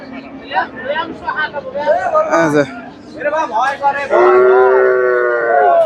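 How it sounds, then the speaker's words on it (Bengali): A Friesian cross cow moos loudly in a long, drawn-out low call, following shorter lowing from livestock amid a busy cattle market at Chandaikona with people talking nearby. "ফ্রিজিয়ান ক্রস জাতের একটা চমৎকার একটা সার গরু দেখতেছি"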